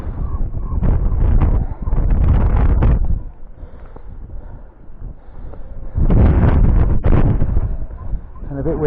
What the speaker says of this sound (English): And a bit windy, as you can see.